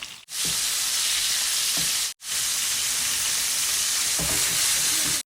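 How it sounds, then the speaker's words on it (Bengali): Pieces of rohu fish fry in a little oil, giving a steady, loud, broadband sizzle with two brief gaps, and no voices are heard. "মাছ ভাজা হয়ে গেছে তবে মাছে যে দেখতেই পাচ্ছেন তেল আছে খুবই অল্প তেল"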